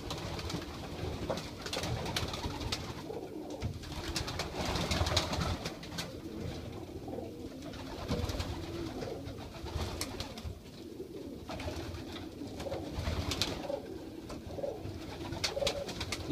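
Young pigeons cooing in a loft, a mix of grizzles, whites and blue bars, with soft overlapping coos and a steady low murmur of many birds throughout, fairly close.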